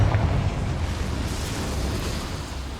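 A Confringo fire spell in the Hogwarts Legacy video game lets out a steady, roaring blast of broad rushing noise with a heavy low rumble that fades slightly over a few seconds.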